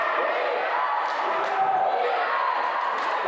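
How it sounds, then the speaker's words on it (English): A crowd at a women's college basketball semifinal against Notre Dame College roars steadily, a loud continuous wash of cheering and voices filling the gym without pause. "Crowd starting to get into it"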